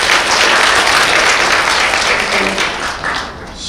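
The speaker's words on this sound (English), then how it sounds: "A huge round of applause" Loud, sustained applause from a large crowd, dense clapping that fades slightly toward the end.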